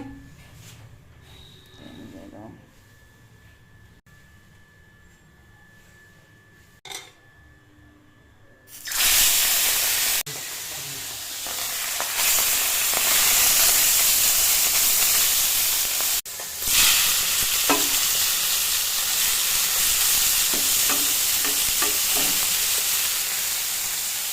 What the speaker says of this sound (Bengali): এখন ভাজবো